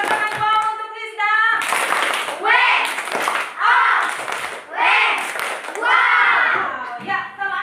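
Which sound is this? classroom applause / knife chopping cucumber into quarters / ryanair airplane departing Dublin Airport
classroom applause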